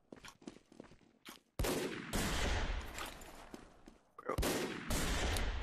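Video game gunfire crackles in rapid, loud bursts, with scattered shots early on, then sustained volleys broken by brief pauses.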